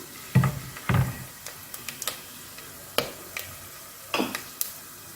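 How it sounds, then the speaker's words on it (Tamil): Cinnamon and cloves frying in hot oil for chicken kuzhambu give sharp, scattered crackles and pops at irregular intervals, close and fairly distinct, over a quiet low sizzle with no talking. "இந்த பைசஸை இதில் போட்டு நல்லா பொரியட்டும்"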